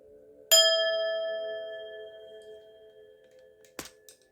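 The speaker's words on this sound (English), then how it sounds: "another loud ring of the bell." One bright metallic ring struck sharply on a singing bowl, its pure tones sustaining and slowly fading over a few seconds, followed by a short clattering knock.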